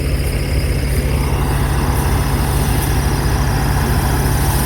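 A Mahindra tractor engine idles with a steady low chugging rumble, loud and continuous throughout.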